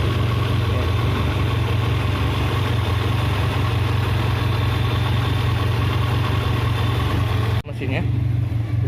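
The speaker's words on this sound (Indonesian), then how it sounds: "Mesinnya kita coba naik, kita panasin dulu sampai normal mesinnya." A 1996 Suzuki Feroza SE engine idles steadily while warming up, a continuous low hum with a brief dip near the end; no talk over it.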